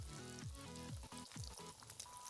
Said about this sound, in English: So now it's time for frying. So the chicken nuggets goes into the pan like that,